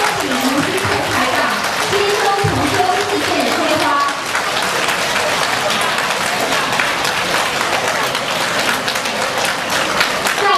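At a Buddhist friends' gathering in a Bangkok hall, an amplified voice speaks over a swelling crowd. Loud, thick applause then takes over and carries on steadily to the end.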